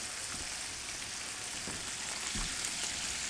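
Shrimp sizzling and frying in a hot pan for a diablo shrimp dish, a loud continuous crackling hiss up close with a few soft stirring bumps, no talking.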